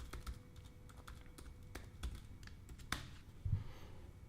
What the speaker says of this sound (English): You'll understand if I don't type my password